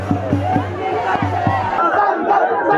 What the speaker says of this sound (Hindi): युवा गुहार कर रहा है कि संसद चलो, संसद चलो